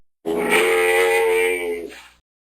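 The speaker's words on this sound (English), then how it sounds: "Camel." A camel gives a single drawn-out, throaty grunting groan, close and loud, lasting about two seconds before stopping abruptly.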